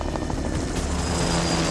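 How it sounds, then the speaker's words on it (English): Helicopter rotor chopping loudly and close by in a steady, dense roar over a coastal shoreline, continuous for a brief stretch with no voices. "Are we getting in a helicopter?"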